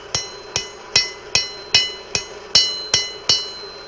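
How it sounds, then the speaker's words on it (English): Blacksmith's hammer striking a length of rebar held on the corner of an anvil, nine loud ringing blows at an even, unhurried pace, each clang decaying before the next, with no talk. "I'm going to put this on the corner of the anvil, and I'm going to strike it"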